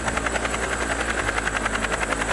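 A helicopter flies nearby at a snowy ski area, its rotor producing a loud, steady, rapid chopping pulse that dominates the sound throughout.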